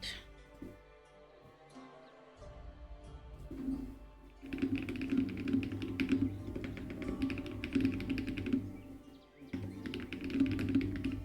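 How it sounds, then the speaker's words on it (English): Hands smacking a computer keyboard, heard as bursts of rapid, clattering keystrokes that stop and start, fairly close, with brief pauses between runs. "Smacking the keyboard"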